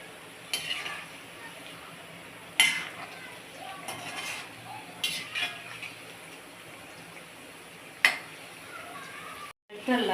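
Cauliflower pakoda fries in a pan while a utensil stirs it, giving sporadic clinks and scrapes over a low, soft sizzle, with a voice speaking at moments.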